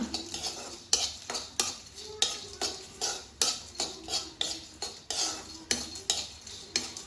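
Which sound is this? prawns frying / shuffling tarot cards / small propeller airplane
prawns frying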